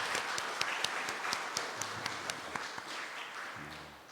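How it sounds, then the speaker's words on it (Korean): A church congregation claps together during a Sunday morning service, a dense sustained burst of applause with a few sharper individual claps standing out, steady throughout and close to the listener. "하나님께 영광의 박수 올리겠습니다."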